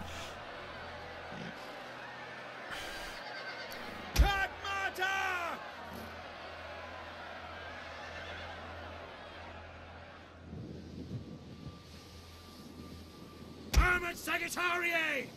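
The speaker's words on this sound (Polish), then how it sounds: "tylko słyszę, jak twoja konica tam jeździ po tych krzakach" Cavalry horses in the Total War: Attila battle game ride through bushes, with a couple of loud, wavering whinny-like cries over a steady murmur of distant battle crowd noise.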